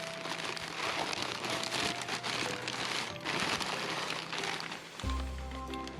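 Packing paper crinkles and rustles near the microphone while a holiday package is unboxed, with continuous crackly handling that rises and falls in bursts. Toward the end a brief steady tone enters.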